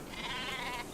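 In the Metal Gear Solid 5 video game, a single sheep gives one steady, wavering bleat lasting about a second, close and clear over a faint game background with no talking.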